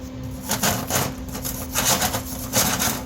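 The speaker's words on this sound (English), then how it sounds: "You got some flux on it, and that will chip right off. Get a little wire brush." A small wire brush scrubs flux off a fresh metal weld in quick, rhythmic rasping strokes, about five or six close, fairly loud scrapes in a few seconds with no talk.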